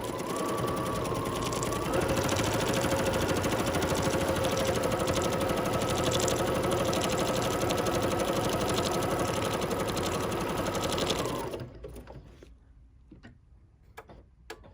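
An embroidery machine stitching a sampler block pattern, a steady, dense mechanical whir with rapid ticking needle strikes that runs loud and unbroken for about eleven seconds, then stops, leaving quiet room sound.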